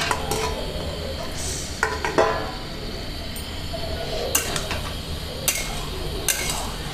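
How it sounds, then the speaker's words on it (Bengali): Metal pot and lid clatter now and then over a quiet simmer of bottle gourd cooking: a few sharp clinks and scrapes spaced apart against a soft background hiss. "মিনিট পর ঢাকাটা তুলে নেব।"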